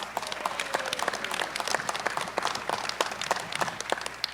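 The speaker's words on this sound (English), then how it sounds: "We can still give applause." Audience at a convention's evening opening session applauds an absent class member, a steady spread of individual claps from a moderately sized crowd, crisp and fairly close, with no talking over it.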